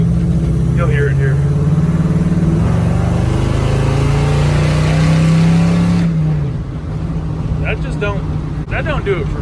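LS-swapped 1966 Chevrolet C10 pickup fitted with a Carven exhaust, its V8 held at a loud, steady rumble and then dropping back toward idle, followed by brief bursts of voices nearby.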